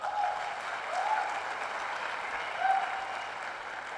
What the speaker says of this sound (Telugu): మీకు ఒకసారి బిగ్ రౌండ్ ఆఫ్ అప్లాజ్.